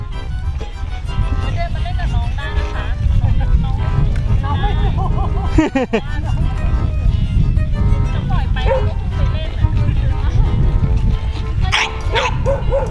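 Two dogs at a beachside campsite bark and yip at each other repeatedly at close range, mixed with whimpers while people talk throughout.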